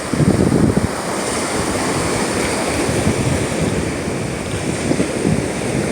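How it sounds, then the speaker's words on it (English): Rough Gulf surf breaking on a beach in Southwest Florida, a loud continuous wash of crashing waves with heavy wind buffeting the microphone throughout. "but I love hearing all the waves."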